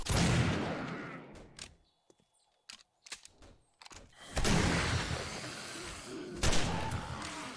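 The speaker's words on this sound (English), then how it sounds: "I'm gonna use my shotgun." Shotgun blasts in the survival game 7 Days to Die, loud close booming shots in bursts separated by quieter gaps with clicks and clatter of reloading, no talking.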